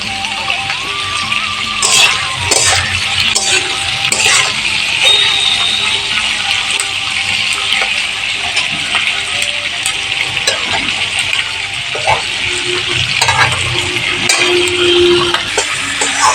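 Chili chicken with salt and turmeric being stirred in a pan, a steady close sizzle and hiss of frying with scattered scraping and clinking of the spoon throughout.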